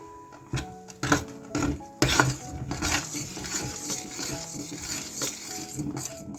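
A spoon scrapes and clinks against the inside of a pot of cooking rice in uneven bursts, with soft stirring sounds between the louder knocks.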